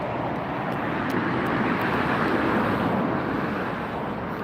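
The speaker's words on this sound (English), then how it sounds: "That was Hawaiian Airlines and Airbus 330 coming in" Hawaiian Airlines Airbus A330-200 jet arriving at LAX from Honolulu: a loud, dense, unbroken engine roar fills every moment, close and steady, with no voices over it.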